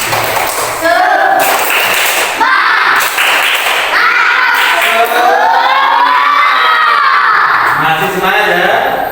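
Classroom students perform a rhythmic 'tepuk semangat' spirit clap and cheer, loud patterned claps mixed with shouted chanting voices close by, bursts of group voices rising and falling.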